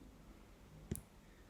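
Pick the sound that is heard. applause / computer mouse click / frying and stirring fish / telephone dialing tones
computer mouse click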